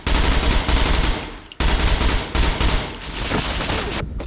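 Loud, sustained automatic gunfire from the survival video game SCUM during a PvP team deathmatch, dense bursts of rapid shots filling the clip with a brief gap near the middle and no talking.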